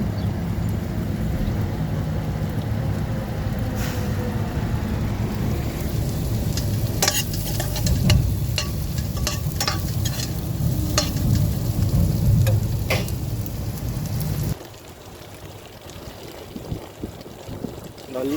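Fish masala made with thalaja fish sautéing in a steel pan, a steady low sizzle with stirring scrapes and utensil clinks, close by, before the frying cuts down abruptly near the end.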